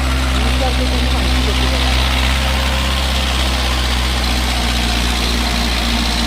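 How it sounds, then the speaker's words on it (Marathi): A tractor engine idles steadily in a farm field for the whole stretch, a loud, deep rumble that never changes pace. "बंद करा बंद करा ट्रॅक्टर दोन मिनटं बंद करा"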